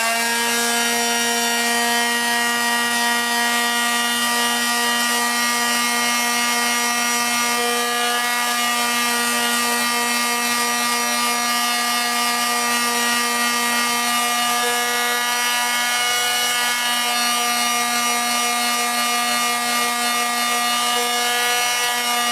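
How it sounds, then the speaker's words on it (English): A wood-turned sea shell being sanded, giving a steady, continuous whining hum with a faint rubbing texture throughout, fairly loud and even, with no talking. "Sand a little"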